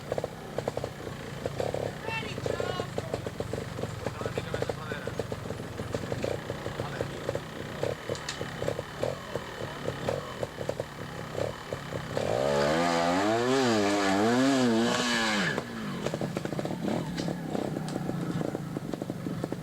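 A trials motorcycle climbs a ledge at the 1989 Observed Trials World Championship in Tweed, Ontario. The engine buzzes near and rough, then revs hard in rising and falling surges for a few seconds, with a voice talking over it.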